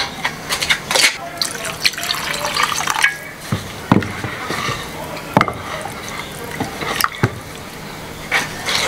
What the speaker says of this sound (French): Je vais rajouter un peu d'eau.